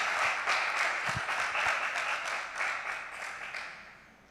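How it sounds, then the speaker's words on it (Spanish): A church congregation applauds steadily through an evening worship service, a dense wash of hand claps that holds level and then tapers off at the end. "Dele un aplauso al Señor en esta noche"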